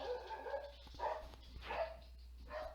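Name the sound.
dog barking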